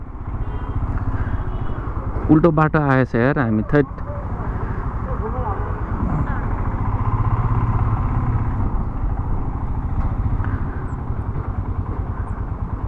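A motorcycle ridden on a road near Kathmandu toward Manichud, its engine droning loudly and steadily throughout, with a rider talking over it and a brief warbling tone early on.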